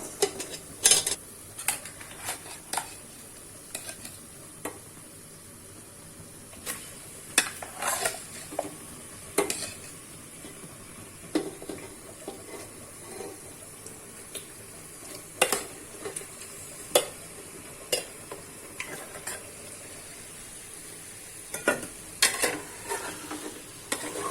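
Marinated chicken frying with onions in a pan for biryani, a soft continuous sizzle broken by frequent sharp scrapes and clacks of a spoon stirring, close and fairly quiet, with no talking.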